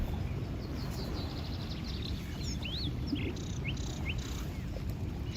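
Passing birds give scattered, thin chirps and short calls over still water, faint and somewhat distant against a steady low background rumble.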